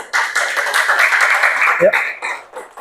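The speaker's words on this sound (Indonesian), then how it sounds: "Tepuk tangan dulu pada kelompok 1" Classroom clapping for a student group that drew the digestive organs, rapid, fairly close hand claps running throughout, with voices talking and calling out over them.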